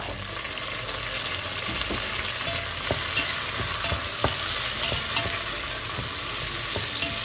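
Tomatoes hit a hot frying pan with a steady, dense sizzle, broken by scraping stirs and light clacks of a utensil, close and continuous, with no talk over it.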